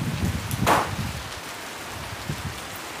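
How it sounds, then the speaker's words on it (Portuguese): Wind-driven rain falls steadily on a farm, a soft continuous hiss with low gusty rumble and a brief louder splash, with no voices. "Chuva com vento."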